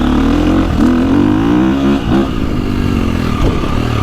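A 2025 KTM 350XCF gas dirt bike on a dry hard-pack woods loop, close and loud, holding a steady high-revving drone under throttle, with brief dips and shifts as it accelerates.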